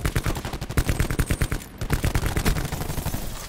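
Rapid automatic gunfire in the Call of Duty Black Ops 4 multiplayer game during Hardpoint league play, loud continuous bursts of closely spaced shots with a brief pause midway before firing resumes.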